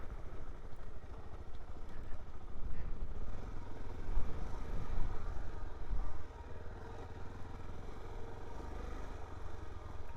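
Suzuki DR-Z4S dual-sport motorcycle in ride mode A, creeping along as slowly as possible with no throttle: a steady low engine rumble heard from close by with wind noise, swelling slightly midway and then settling.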